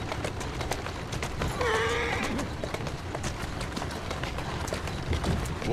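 A horse walks in Assassin's Creed Syndicate, hooves clopping steadily over a dense ambient bed of street and carriage noise, with a short whinny-like tonal burst near the start.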